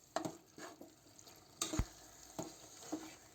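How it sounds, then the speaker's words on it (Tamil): Half a kilo of washed chicken is stirred into green masala in a pan, making quiet scattered clinks and scrapes over a faint sizzle, with one sharper knock near the middle. "இந்த மசாலாலேயே சிக்கன் நல்லா கொஞ்ச நேரம் மிக்ஸ் பண்ணி விடுங்க"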